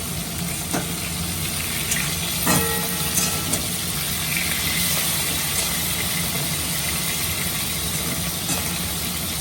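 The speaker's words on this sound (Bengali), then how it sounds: "তেলটা গরম হয়ে গেছে, এবার মাছটা ভেজে নেব।" Puti fish fry in hot oil with a dense, continuous sizzle and a few faint clicks and taps of utensils near the pan.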